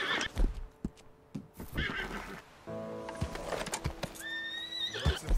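A horse in the video game Red Dead Redemption 2 whinnies and snorts with several neighs, mixed with clip-clopping hooves and scattered thumps, fairly close and moderately loud.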